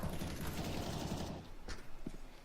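Rapid bursts of shotgun fire in a Counter-Strike match on the Nuke map dominate the first second and a half, followed by a few sharper isolated shots and clicks, loud and close with no talk.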